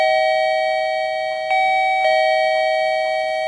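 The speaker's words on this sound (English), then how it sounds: "For example, the bus bell." A sustained electronic bell tone sounds on a Singapore bus, loud and steady, with faint clicks and button presses marking a few brief onsets along the way. No one speaks.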